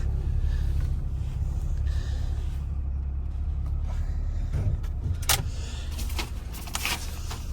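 A 2020 Ford Transit Custom long wheelbase van idles with a steady low engine rumble as it is moved slightly, with a few clicks and mechanical ticks over it.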